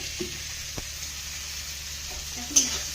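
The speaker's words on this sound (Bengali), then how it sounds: "পেঁয়াজটা ভাজা হচ্ছে" Onions frying in a pan, a soft steady sizzle with a few light utensil knocks and a brief sharper crackle near the end.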